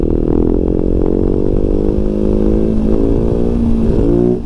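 A motorcycle doing wheelies revs hard close by, a sustained loud engine whine whose pitch climbs steadily over several seconds before easing off at the end.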